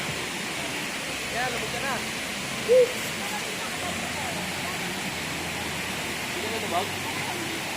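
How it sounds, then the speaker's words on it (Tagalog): Rushing water from a waterfall at Paglitawan resort in Tanay, Rizal, a steady broadband hiss filling the background while people talk over it. "Ganda nitong falls na to."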